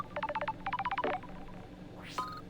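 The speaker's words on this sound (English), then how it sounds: "Oh, I'm getting a phone call." An in-game phone in Paradise Killer sounds as two quick rapid bursts of electronic tones, followed by a brief rising sweep and a short tone, clear and close with no voices.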